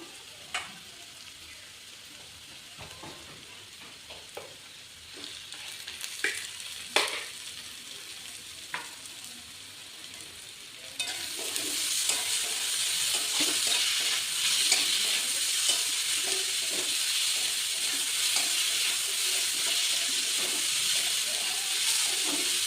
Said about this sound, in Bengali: পেঁয়াজটা ভাজা হয়ে গেছে, এবার রসুনটা দিয়ে দিই।